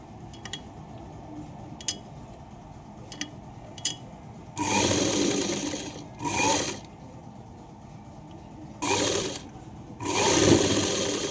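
A sewing machine stitches a folded-in blouse lining in four bursts, the first and last longest, near and clear, after a few light clicks of handling, with no talking.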